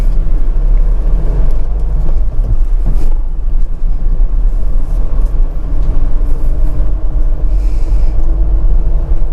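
A heavy 2025 Force Trax Cruiser van with its 2.6-litre engine pulls away on a slow test drive, a steady close low rumble of engine and road noise filling the cabin with light rattles and no talking.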